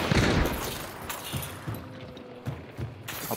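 Gunfire trades back and forth in a Hunt: Showdown firefight, several sharp reports and mechanical clacks scattered irregularly across a few seconds, some distant, with no talking.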